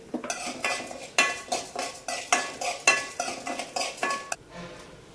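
A spoon repeatedly scraping and clinking against a pot as banana flower curry is stirred, with about a dozen regular strokes in a steady rhythm, close and fairly loud, then stopping near the end.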